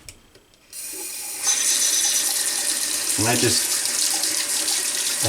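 Hot water runs steadily from a tap in a guitar workshop, a continuous rushing flow with a brief clatter midway, while a voice speaks briefly over it.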